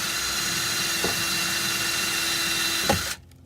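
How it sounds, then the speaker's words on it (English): A power drill with a 3/8 bit drones steadily at close range with a constant high whine for about three seconds, then cuts off abruptly. "you're gonna take your 3/8 bit and you are going to drill in"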